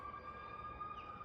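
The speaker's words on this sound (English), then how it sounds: "It's an ambulance." An ambulance siren sounds in the background outdoors, a steady wailing tone held throughout the short stretch over diffuse ambient noise, fairly faint and distant.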